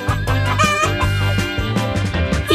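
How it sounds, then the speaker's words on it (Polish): A hen clucks loudly and close, in a rapid series of repeated, throaty calls that run through the whole clip with almost no pause. "Ale kura też jest bardzo fajna."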